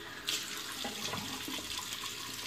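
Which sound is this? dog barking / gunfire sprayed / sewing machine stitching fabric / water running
water running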